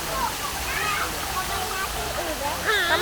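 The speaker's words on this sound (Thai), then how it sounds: "นี่ตรงนี้ก็มีน้ำตกนะคะ" A shallow waterfall at Amphawa, where children play, gives a steady rushing wash throughout, with someone talking over it.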